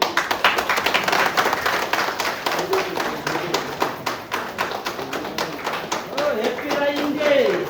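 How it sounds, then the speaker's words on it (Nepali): A crowd claps at a founding day celebration, a rapid irregular run of hand claps over several seconds, close and loud, with voices and a brief tonal sound near the end. "ताली बजाइदिनु ताली"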